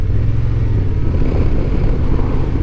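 A Honda XL750 Transalp motorcycle engine pulls hard under acceleration on a test ride, a loud, steady low drone with rushing wind, close and continuous with no talking.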